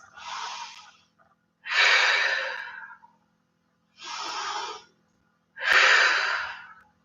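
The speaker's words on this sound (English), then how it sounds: "Wherever you are, 2 more deep breaths." Deep breaths taken while holding yoga chair pose: four slow, audible inhales and exhales, close and alone, each lasting about a second or more, with short pauses between.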